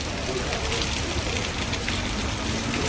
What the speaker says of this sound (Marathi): पाऊस खूप पडतोय.